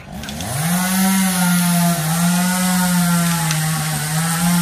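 A chainsaw cuts into a tree outdoors, its engine rising quickly to a loud, steady, buzzing whine and holding at full load throughout.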